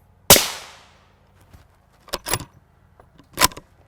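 A single loud, sharp rifle shot at close range fires an A1 round into a Hoplite Level IV armor plate, its crack ringing out and decaying. Fainter metallic clinks and handling noises follow.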